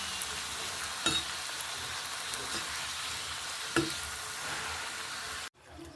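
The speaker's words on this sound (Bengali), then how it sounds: "এভাবে আপনারা আগে থেকে ভেজে নেবেন।" Papri, crisp flour wafers for papri chaat, fry in hot oil with a steady close sizzle and a couple of sharp clinks from stirring, cutting off abruptly near the end.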